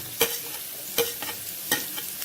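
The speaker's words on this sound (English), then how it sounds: "Okay, just stir fry this." Chopped onions stir-fried in a pan after ginger and garlic, quiet sizzling broken by three sharp scraping stirs of a spatula, close and alone without any talking.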